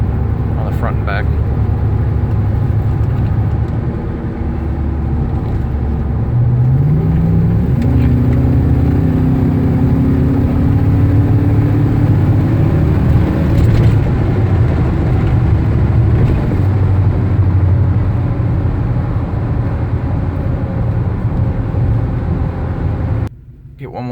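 An AWD Ford Ranger with a 5.0 engine accelerates from 0 to 60, its steady engine drone heard from inside the cab as the pitch climbs through the run and then cuts off abruptly at the end.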